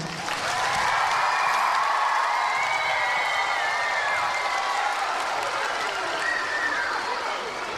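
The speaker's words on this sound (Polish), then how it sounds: "panom i paniom nauczycielkom, nauczycielom, opiekunom duże brawa bijcie" A concert audience gives sustained, dense applause for the teachers and caretakers, a steady wash of many hands clapping together at full volume throughout, with a faint voice or two mixed into the crowd noise.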